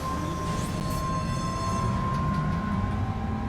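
A monorail train in the video game Death Stranding 2 rolls along in a continuous rumbling drone with a faint steady whine, moderately distant and without talk.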